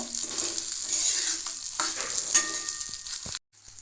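Mung dal frying in a pan, a steady loud hiss and sizzle with a few stirring scrapes, close up, ending abruptly in silence near the end.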